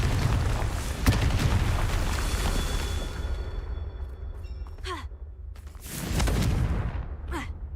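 A Confringo blasting spell explodes in Hogwarts Legacy, a heavy low boom with rumbling debris, followed by shimmering magical chimes and a second booming burst near the end.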